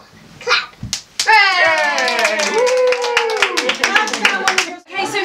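A group of people at a 40th birthday party clap together in a quick, ragged run of hand claps, mixed with a voice singing or calling out over them.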